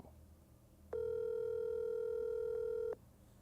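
An outgoing phone call rings while waiting for an answer, a single steady electronic tone lasting about two seconds over quiet background, then stopping.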